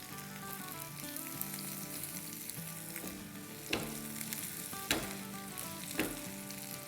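Chicken nuggets fry in a pan with a continuous close sizzle and bubbling, punctuated by a few sharp clinks and scrapes as pieces are turned.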